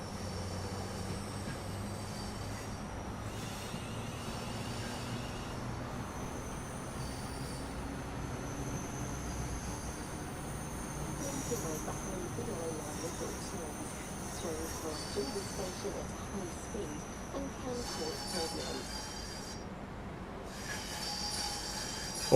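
A train in the Train Sim World 5 rail simulator, on the West Coast Main Line south near Euston, overtakes a Pendolino: a steady rumbling roll of wheels on track with a faint whine and brief higher squeals, continuous throughout.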